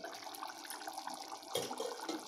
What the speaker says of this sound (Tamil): இப்போவும் பாருங்கள் கொதிச்சுட்டே தான் இருக்குது, ஆனால் நம்ம கேஸை ஆஃப் பண்ணிட்டோம்